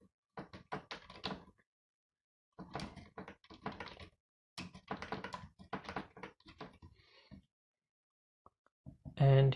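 Keys clatter on a computer keyboard in short clustered bursts separated by quiet pauses, close and fairly crisp, with a heavier thump at the very end.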